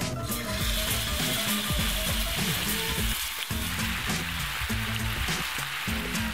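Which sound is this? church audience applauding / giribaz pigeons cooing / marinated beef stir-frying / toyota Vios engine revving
marinated beef stir-frying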